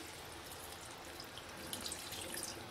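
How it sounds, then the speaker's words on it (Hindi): A glass of cold water is poured into cooked rice in a home kitchen, making a soft, steady splashing rush that swells slightly near the end. "और राइस में मैं 1 ग्लास ठंडा पानी डाल रही हूँ।"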